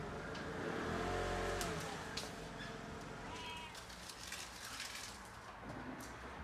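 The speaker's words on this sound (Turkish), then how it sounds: "Bakın bakalım Bu dükkanın kedisi." A shop cat in a pet shop meows a few times at close range, the calls mixed with a steady low engine rumble and background noise.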